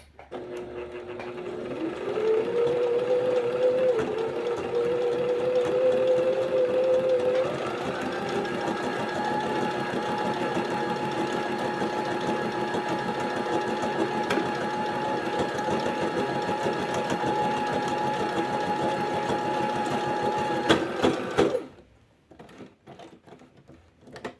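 Brother domestic sewing machine stitching a buttonhole in one step, a fast steady mechanical whirr that climbs to a higher pitch partway through, runs on evenly, then cuts off near the end.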